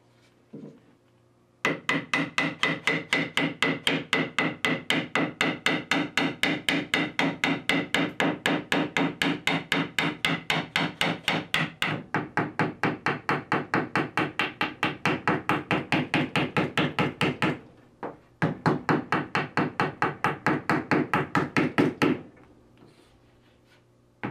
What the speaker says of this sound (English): Alright, now it's time for the hammer.